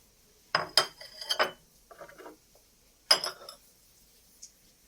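A porcelain saucer and teacup from the 1950s are handled, giving a few bright clinks and rattles in two short bursts, close and clear against near silence.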